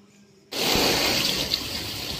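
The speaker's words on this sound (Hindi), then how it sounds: "यहाँ पे चेम्बर में पानी निकाल रहा हूँ ये लिफ्ट का खड्डा का पानी है" A submersible pump discharges water pumped from a lift pit into a chamber at a new building, starting abruptly as a loud, close, steady rushing gush after a brief quiet moment.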